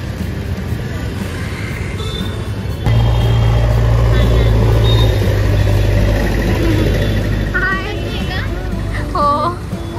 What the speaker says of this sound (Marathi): ती तिथे येते व्हाईट कार